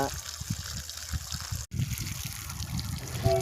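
Water trickles steadily from drip irrigation lines in a farm plot, a soft continuous flow with faint murmuring in the background.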